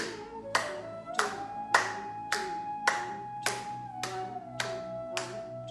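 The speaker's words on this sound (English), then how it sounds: "Clap in the front and behind. Clap hard." Hands clap hard during a women's yoga energy exercise, roughly ten sharp, loud claps landing in a steady, even rhythm over a faint sustained tone.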